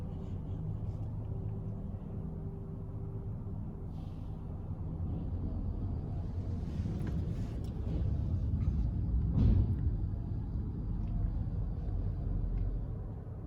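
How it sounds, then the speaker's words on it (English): The motor of a Ryko Softgloss Maxx 5 car wash at a Shell station in San Antonio, Texas, runs as a low, steady rumble with humming tones, swelling slightly midway, heard from inside a car. "Never heard the motor like that before"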